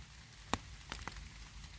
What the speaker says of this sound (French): Nous sommes dans la forêt à Bouillon et il pleut, comme souvent en Belgique.